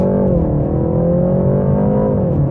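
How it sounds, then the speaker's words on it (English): A 2019 BMW 330i G20 M Sport launches hard under launch control, its engine note climbing steadily in a loud, sustained drone from inside the cabin with no talk over it. "bit of acceleration on the brake pedal, bit more, release, launch control active"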